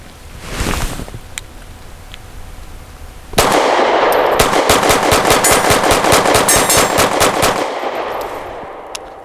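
Grand Power P1 Ultra pistol fired rapidly at steel targets outdoors, a loud close string of shots lasting several seconds, with faint metallic pings, after an earlier shot.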